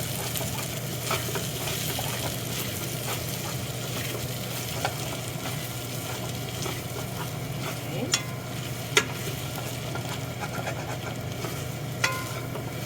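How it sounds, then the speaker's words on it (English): Vegetable curry stirred in a pan, a steady low sizzle and continuous scraping, with a few sharp clinks of the utensil against the pan toward the end. "And then you stir it into the vegetables."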